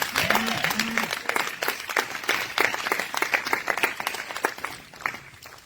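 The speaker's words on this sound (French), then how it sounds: "Acclame le Seigneur Jésus" A church congregation after an all-night prayer service claps and cheers loudly and steadily, with voices rising over the crowd's applause.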